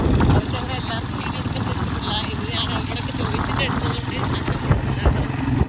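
Steady clip-clop of a horse cart's hooves on a road, with a constant rumble of movement and people talking nearby.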